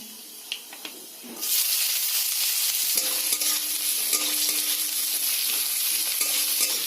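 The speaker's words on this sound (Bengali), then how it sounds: "পেঁয়াজগুলোকে একটু হালকা লাল লাল করে ভেজে নিতে হবে" Chopped onions are tipped into hot mustard oil tempered with nigella seeds, bursting into a loud, sustained sizzle after a quieter opening, with occasional scraping stirs over the steady frying hiss.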